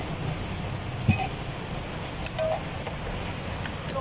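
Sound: heavy rain falling

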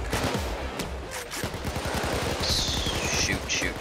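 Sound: gunfire in the video game Payday 2

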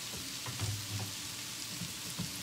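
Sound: shrimp sauteing in butter in a pan

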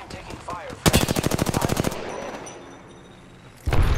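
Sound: gunfire in the video game Apex Legends

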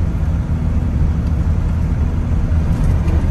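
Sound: truck driving on a rough dirt road in Kansas

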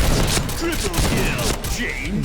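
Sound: gunfire in video game Point Blank

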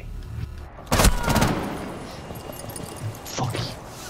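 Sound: gunfire in a video game shooter

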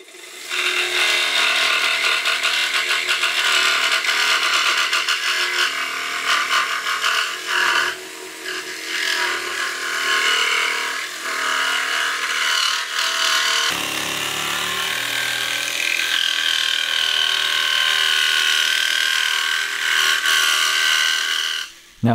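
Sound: jigsaw cutting wood

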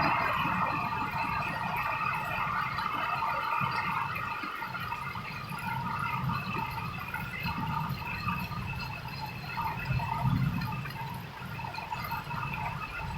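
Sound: rain storm

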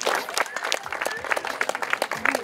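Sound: audience applause at a running race ceremony

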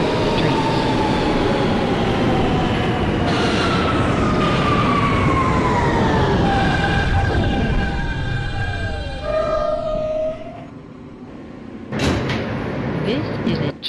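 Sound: G train (R160 subway car) running in the OpenBVE video game

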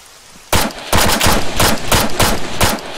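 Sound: gunfire in video game ARMA III

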